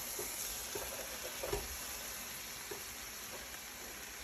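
Ground beef frying in a pan for taco salad, a steady broadband sizzle with occasional soft stirring scrapes and crackles, fairly quiet and close.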